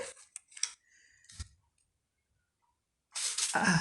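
Scissors snip through paper-like material with a few quick, crisp cuts at close range, followed by a quiet pause and then a longer rustling crunch, all in a quiet art-tutorial setting.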